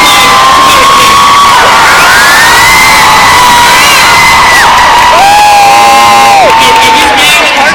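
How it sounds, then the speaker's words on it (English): A large youth crowd at a big arena event roars with cheering, whoops and high shouting for a famous broadcaster being introduced, a loud sustained din with clapping mixed in throughout. "Please give me an applause to Larry King."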